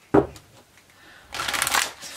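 A short riffle of tarot cards at the start, then a longer, louder stretch of tarot cards being shuffled and bridged, with quiet gaps between.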